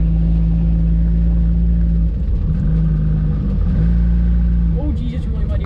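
An Opel GT with a Weber 32/36 carburetor drives through a muddy, watery barnyard, its engine droning steadily with a low rumble and a brief rev near the end, loud and close, with splashes under the engine.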